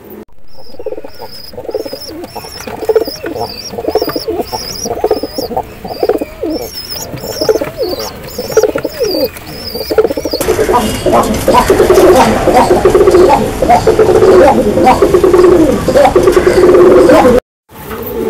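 High-flying pigeons coo repeatedly in soft, rhythmic bursts, close by, later joined by a denser flutter of bird calls and rustling.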